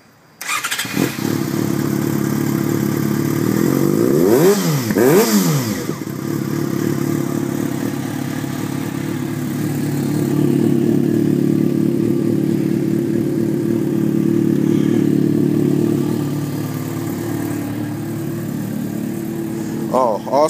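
A Yamaha FZ6R motorcycle fitted with a mid-pipe exhaust idles loudly and close, with a couple of quick throttle blips early on before it settles back into a steady, rumbling idle.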